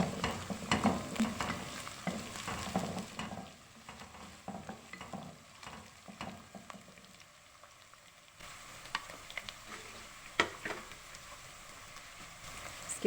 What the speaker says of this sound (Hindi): साथ साथ डाल देंगे ये हरी मिर्च का पेस्ट, इसको भी थोड़ा सा मिक्स कर लेंगे।